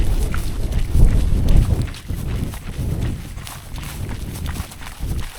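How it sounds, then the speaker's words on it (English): Rhythmic footfalls of someone trail running during ultramarathon training pound steadily near the microphone, with heavy thuds and breathing-like rustle, no speech. "Definitely trail running now."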